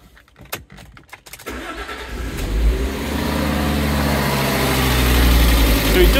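A car engine cranks in short bursts, catches and settles into a steady, loud running idle that swells slightly.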